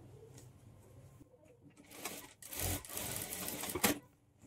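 A sewing machine stitches darts near the armhole of a blouse in a short, fairly quiet burst of rapid mechanical chatter, preceded by faint handling noises.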